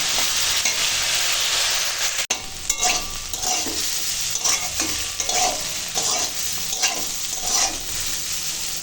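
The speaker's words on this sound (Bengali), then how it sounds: "এখন আলুটা ভেজে নেব" Potatoes sizzle and crackle steadily in a hot pan, with repeated scraping stirs and one sharp clack; no talking.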